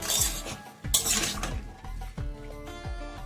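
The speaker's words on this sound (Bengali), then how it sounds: "আমরা সবজিগুলোকে লবণ আর হলুদের সাথে হালকাভাবে এইভাবে ভেজে ভেজে নেব" Vegetables with salt and turmeric are stir-fried in a pan for an elephant apple curry, with repeated scraping and clattering of a spatula against metal, sharp bursts amid a steady frying hiss, no talking.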